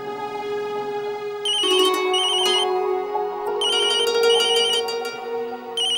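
A mobile phone rings with an electronic ringtone for an incoming call from a daughter-in-law, a steady melodic tone that repeats in bursts, loud and close, with no one talking over it.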